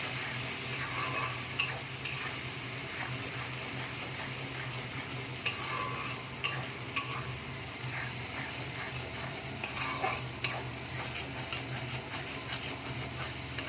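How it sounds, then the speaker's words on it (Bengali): Spice paste of red chili powder, turmeric and salt frying in oil for fish curry gives a quiet, steady sizzle with a few sharp spatula taps and scrapes against the pan. "আমি এর মধ্যে দিয়েছি লাল লঙ্কার গুঁড়ো, হলুদ আর একটু সামান্য নুন দিয়ে ভালো করে মশলাটাকে কষাবো।"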